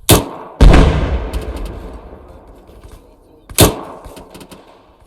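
Gunfire from an Arma 3 military-simulation section attack: loud, close shots ring out in three separate bursts, each with a sharp crack and a long, rumbling echo that fades away.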